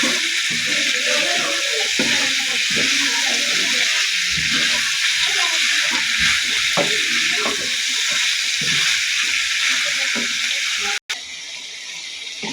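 Vegetable curry with tomato and coriander sautés in a pan, giving a steady, fairly loud sizzle with scraping stir strokes throughout, then a brief cut near the end before the sizzle resumes.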